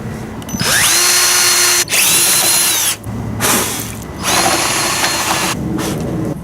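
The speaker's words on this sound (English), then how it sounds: "I need to drill a couple of holes" Loud, close power drill whirring in several bursts, winding up and down, with short pauses between runs as it bores holes in wood for an upcycled bench.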